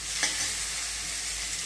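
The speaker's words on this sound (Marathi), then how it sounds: "आता हे सगळं परतून घेते मी।" Tomato and rice sauté in a pan with a constant close hissing sizzle and a brief stirring scrape near the start, no voices.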